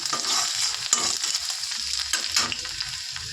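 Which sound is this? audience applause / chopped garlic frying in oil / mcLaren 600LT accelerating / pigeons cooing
chopped garlic frying in oil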